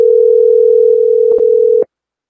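An outgoing phone call rings back through a calling system as one steady, loud electronic tone. It holds for nearly two seconds with a couple of small clicks, then cuts off to silence.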